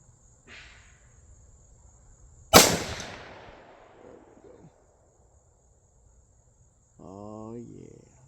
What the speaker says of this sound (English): Let me shoot one more since I pulled it.